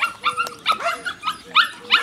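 A 6.5-week-old puppy lets out a close, steady run of about half a dozen short, high barks and whimpering yips, each a brief squeaky cry with small gaps between, and no talking.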